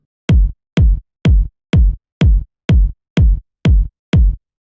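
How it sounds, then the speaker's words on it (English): A solo techno kick drum from the PML Wesker sample pack hits nine times at an even tempo, each a punchy, booming thump with a sharp click attack and short tail, loud and close with silence between. "The first kick is from PML, the Wesker pack."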